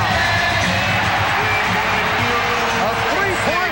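Arena crowd at a 1992 Knicks versus Bulls playoff game jeering and shouting loudly and continuously, with a commentator's voice talking over the noise and sneaker squeaks audible on the court.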